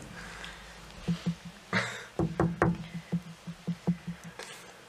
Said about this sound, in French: tu entends frapper à ta porte